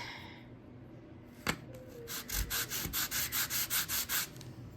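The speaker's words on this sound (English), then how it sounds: "This is a little uneven right here, so I'm going to sand that out a little bit." Sanding an uneven spot on a plaster intaglio of fresh flowers: about nine rhythmic rubbing strokes, close and steady, following a single sharp tap, with no talk.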